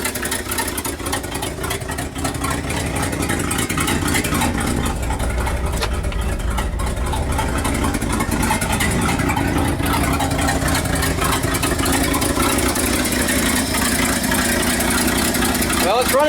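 An engine idles after a Motorcraft 2100 carburetor rebuild, running loud and close with a busy, slightly uneven rumble that carries on steadily throughout.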